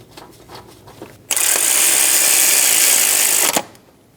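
Snugging down the bolt on a Subaru Legacy timing belt gear pulley: a few light clicks, then a loud, continuous whirring burst of about two seconds from a powered driver, ending abruptly with a click.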